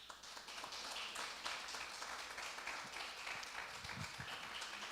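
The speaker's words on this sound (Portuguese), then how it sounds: "Uma salva de palmas a Jesus." A church congregation claps together in a dense, steady patter of applause, fairly distant and even throughout, with no voices standing out.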